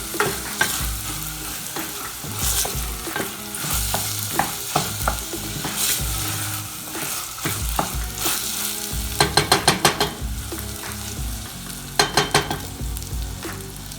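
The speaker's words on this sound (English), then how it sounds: "we're going to fry that up in the pan. Get that mixed in real well." Shrimp fried rice with saffron sizzles in a pan while a utensil scrapes and clatters against the metal, stirring in irregular bursts with quick rattling clinks over a steady frying hiss.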